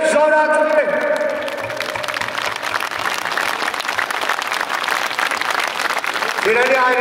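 A rally crowd on Baghramyan Avenue breaks into several seconds of sustained, dense clapping. The applause starts as a voice over the loudspeakers ends and fades as the speaking resumes.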